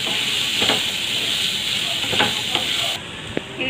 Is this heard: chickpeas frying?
yes